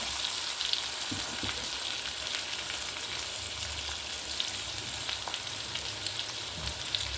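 Salted mango with curry leaves sautés in a pan, giving a steady, even sizzle and crackle close up and alone, with no talking.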